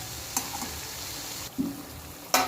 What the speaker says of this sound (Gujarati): આ રીતના એને ધીમા ગેસ પર જ આપણે તળી લેવાનું છે